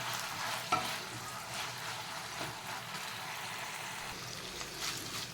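Potatoes with salt cooking in a large kadai for sabudana khichdi, giving a steady, soft, continuous sizzle with occasional faint scrapes.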